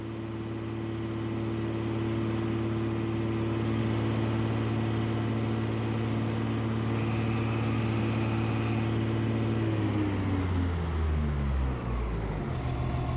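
A tractor engine in Farming Simulator 22 runs with a steady, loud drone and strong low harmonics, then winds down in pitch near the end as the revs drop.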